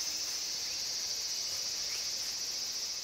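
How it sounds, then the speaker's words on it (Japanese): Cicada buzzing in the summer-holiday game Natsumon, a steady high-pitched drone that holds unbroken throughout over a quiet background. "あ、セミがいる。"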